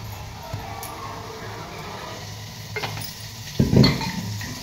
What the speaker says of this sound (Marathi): कांदा टोमॅटो मला तेलामध्ये थोडंसं भाजून घ्यायचं आहे